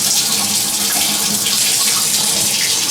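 Warm tap water running steadily into a euphonium, a close, loud, even splashing hiss with no pauses.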